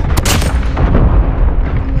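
A sniper rifle fires in Call of Duty Mobile, one loud close crack followed by a heavy booming tail that rolls on for about two seconds, alone without talk.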